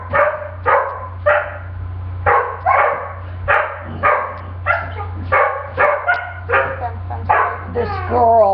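An aggressive Labrador barks repeatedly at close range, a steady run of loud, evenly spaced barks over a low constant hum, with a few yips near the end.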